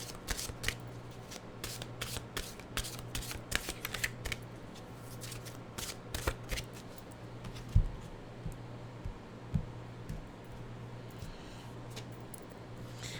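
Mystical wisdom oracle cards are shuffled by hand in a rapid run of crisp riffles and slaps that keeps going throughout, close and fairly quiet over a low steady hum, with no talk.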